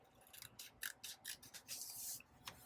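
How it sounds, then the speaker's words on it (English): Scissors cut through paper for a planner in a series of short, soft snips and rustling slides, close but quiet, with no talk during the cuts. "So then I'm just going to cut this with my scissors."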